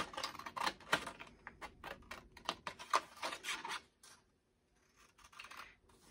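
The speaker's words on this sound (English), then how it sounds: "I'm going to go ahead with my scissors and I'm going to cut that." Scissors snip repeatedly in quick, crisp cuts up close for several seconds, then stop, leaving near silence.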